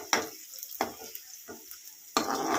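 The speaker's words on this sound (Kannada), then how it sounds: "ಆಮೇಲೆ ಅದನ್ನು ಈ ರೀತಿ ಎಣ್ಣೆಲಿ ಫ್ರೈ ಇದ್ದೀನಿ" Okra fries in oil while being stirred in a pan: sharp bursts of sizzling rise with each stir, three or four loud surges with quieter crackle between them.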